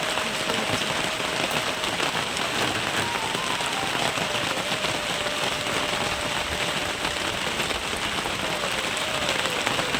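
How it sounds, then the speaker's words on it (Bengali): Light morning rain falls outside as a steady, even patter that holds unchanged throughout, with no voices over it. "আজকে সকাল সকাল বৃষ্টি একটু শুরু করে দিয়েছে"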